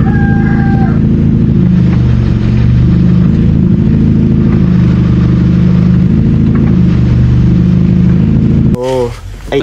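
Old Nissan Sentra engine idling rough from a worn thrust bearing, a loud close steady drone with a faintly uneven beat, ending in a brief burst of other sound.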